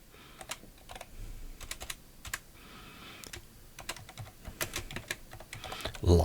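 Typing a title on a computer keyboard: quick irregular bursts of close key clicks with short pauses between words, fairly quiet and unaccompanied by talk.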